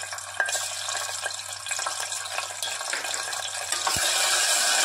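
Ginger paste frying in hot oil in a pan, a steady broadband sizzle that carries on close and fairly loud, with a faint stir or clink near the end and no talking.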